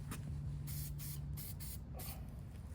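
Corrosion protection lubricant sprayed onto a 2025 Honda Rancher 420 ATV near the brake rotors, several short close hissing bursts from an aerosol can with brief pauses between them.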